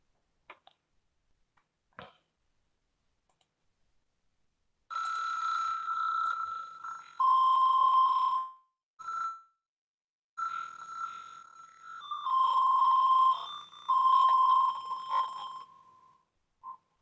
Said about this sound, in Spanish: dependiendo de la distancia con el objeto que estemos chocando, generará una tonalidad específica